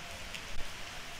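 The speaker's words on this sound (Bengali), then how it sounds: "খুব বৃষ্টি হচ্ছিল।" Heavy rain falling steadily as a dense, even hiss of drops, with a brief louder patter midway through a short stretch.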